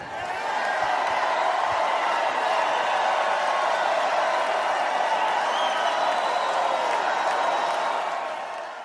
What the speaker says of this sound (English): former Trump advisor Peter Navarro getting a standing ovation from the convention crowd as he took the stage